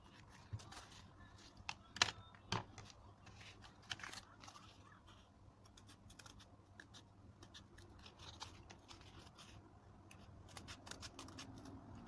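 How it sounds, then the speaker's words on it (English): Scissors snipping through a pompom template, with a few sharp close cuts near the start followed by quieter rustling and handling, faint and without talk. "We're going to cut off this part. So I'm just going to cut it off like this."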